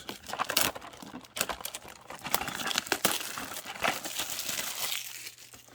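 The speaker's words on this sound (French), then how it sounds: "On va ouvrir ce paquet tout de suite." Crinkling, tearing foil wrapper of a Topps Chrome UEFA Champions League trading card pack being ripped open up close, a run of crackly rustles and rips for several seconds with no talking.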